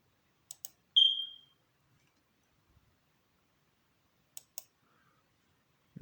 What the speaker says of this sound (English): I click on D.